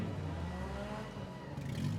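Mini cars at an autocross race at the Lawrence County, Ohio fairgrounds, engines droning and revving steadily for two seconds at moderate distance, with no voices.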